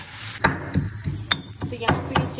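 Raw chicken is chopped in a kitchen, a knife striking a board in about half a dozen sharp, close chops at an uneven pace, with faint background noise.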